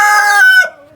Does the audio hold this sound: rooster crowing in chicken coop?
yes